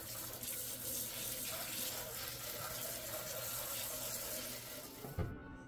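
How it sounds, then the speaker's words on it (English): Gear is rinsed under a running tap, a steady close rush of water splashing into a sink that continues throughout and cuts off with a clunk near the end. "Once I am done, I'll rinse it off and shake off most of the water."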